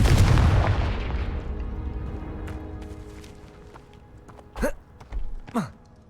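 The Confringo fire spell in Hogwarts Legacy lands with a loud, deep explosive boom that rumbles and fades over several seconds, followed by a few sharp whooshing magical bursts and a gasp.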